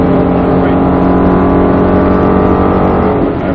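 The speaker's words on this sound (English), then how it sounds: "upshift" A Ford Mustang Shelby GT engine pulls hard after an upshift on a race track, a loud, close, continuous roar with a steady harmonic drone throughout.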